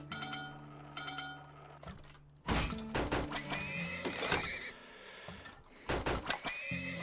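Several horses neigh and whinny in the Turmoil video game, loud sharp calls rising repeatedly over faint clip-clop and game background sounds, with bursts clustered near the start, middle and end.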